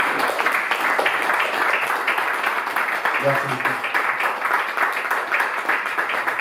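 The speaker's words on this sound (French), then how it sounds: "Je vous demande vraiment de l'applaudir parce que c'est un super gars." An audience at a book presentation applauds steadily throughout, and someone briefly says thanks partway through.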